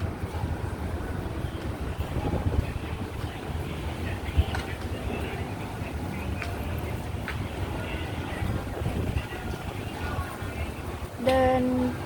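Strong wind gusts buffet the microphone at a canal boat pier by The Mall Bangkapi in Bangkok, a continuous rumbling roar with passing city and boat noise beneath it.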